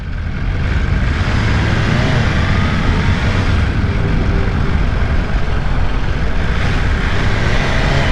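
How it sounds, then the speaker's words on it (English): A 2022 BMW S1000RR M Edition sport bike being ridden, its engine a steady, loud drone blended with heavy wind rush, continuous throughout with no talking. "This is a motorcycle."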